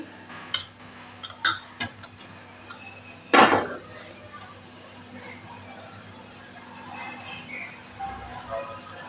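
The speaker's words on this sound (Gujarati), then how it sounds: "રાઈ જીરું સરસ ફૂટી જાય" Mustard seeds and cumin crackle and pop in hot oil, with scattered sharp snaps at first and then one louder burst of spluttering that settles into a quieter sizzle.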